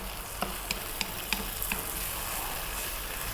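A creamy tomato sauce with mushrooms is stirred in a pan, with soft scraping strokes at a steady pace over a low background sizzle.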